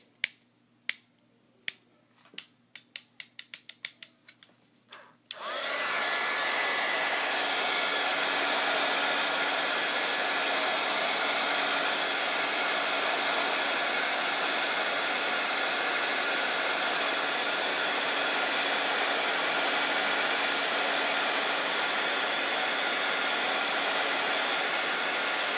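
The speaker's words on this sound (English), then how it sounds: "We're going to dry it again. Heat guns on the fritz." A heat gun used to dry cloisonne enamel is switched on and sputters, making a run of sharp clicks and ticks. It then settles into a loud, steady, close blowing roar that holds for about twenty seconds.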